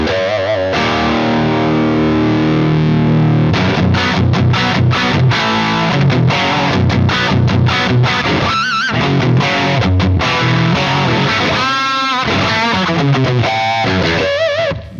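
Electric guitar played through a cranked Marshall 1987X amp with solid state rectifiers and no effects, heavily distorted with an aggressive midrange; loud, continuous riffing with chords and single-note runs for the whole stretch.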